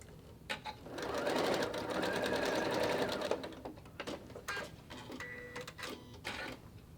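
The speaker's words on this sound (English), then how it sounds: "And I just do it as I'm sewing." A sewing machine stitches a fabric face mask of quilting cotton with a folded quarter-inch hem, running in a fast, even mechanical whir for a couple of seconds, then in shorter bursts with pauses and clicks, up close.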